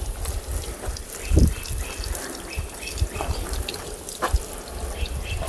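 Water sprays and splashes onto a car in an uneven, hissing wash with occasional sharper spatters, steady and fairly close.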